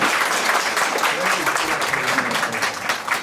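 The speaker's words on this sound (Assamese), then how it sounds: "আমি সকলোৱে হাত চাপৰি দি তেওঁক নিমন্ত্ৰণ জনাম হালেলুয়া।" Congregation clapping hands together at a church worship service, a loud, dense and sustained round of applause with voices mixed in beneath it.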